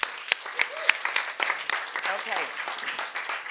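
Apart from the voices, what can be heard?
audience applause for conference speakers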